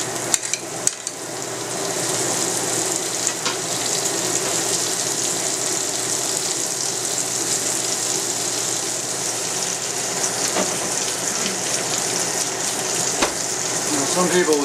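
Chopped onion hitting hot bacon fat in a frying pan and sizzling steadily and loudly, a constant hiss that lasts for the whole span after a few initial clatters.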